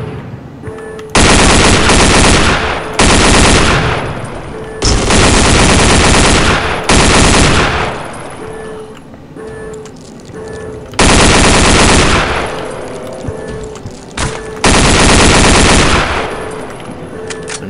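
Long bursts of M60 machine gun fire in the shooter Soldier of Fortune 2, loud and close, repeating in several sustained volleys separated by brief gaps.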